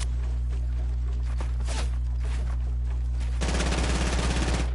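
Rapid automatic gunfire sprays in a Fortnite match, a dense burst of shots that swells louder toward the end over a steady low game hum.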